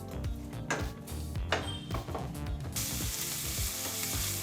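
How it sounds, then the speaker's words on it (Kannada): Onions frying in oil over a medium flame, with busy crackling and scraping of a utensil against the pan, ending in a denser, steady sizzle. "ನಂತರ ನಾವೀಗ ಸ್ಟವ್ನ ಹಚ್ಚಿ 2 ನಿಮಿಷಗಳ ಕಾಲ ಮೀಡಿಯಂ ಫ್ಲೇಮಲ್ಲಿ ಫ್ರೈ ಮಾಡ್ಕೋಬೇಕಾಗತ್ತೆ ಈರುಳ್ಳಿನ"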